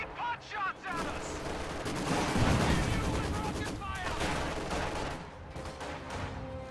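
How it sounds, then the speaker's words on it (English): Scattered pot shots and gunfire in a World War II real-time strategy battle, sounding as repeated cracks and bursts over a busy rumble of combat, with voices talking throughout. "Crouch taking pot shots at us!"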